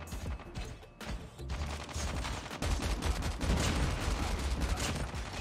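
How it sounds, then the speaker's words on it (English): Continuous bursts of automatic gunfire and explosive shots in a Call of Duty Mobile Juggernaut match, loud and dense throughout with no pauses. "We're gonna shoot this guy here."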